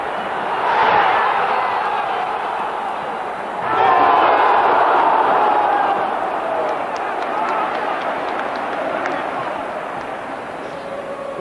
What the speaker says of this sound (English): just watching the Italian crowd was an experience in itself